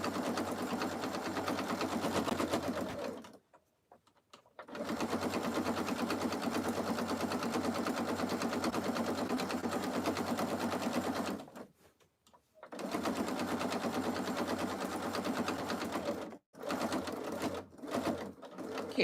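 A sewing machine runs in long steady bursts as it stitches a soup bowl cozy at presser-foot width, with brief pauses between runs and a few short stops near the end.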